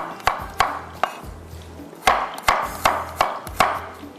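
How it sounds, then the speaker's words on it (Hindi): Sharp knife chops through garlic on a cutting board, quick irregular clusters of taps with short pauses between, close and crisp, no talking. "थोड़ा सा हम इसको लहसुन को भी चॉप कर लेते हैं इस तरह से"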